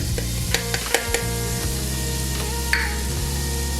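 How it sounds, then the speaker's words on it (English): Onion sautéing in melted butter in a pot on the stove, a steady sizzle punctuated by several sharp clinks and scrapes of stirring, with no one speaking. "in my pot I have melted a 1/3 cup of butter. To that, I'm adding 1/3 cup of onion"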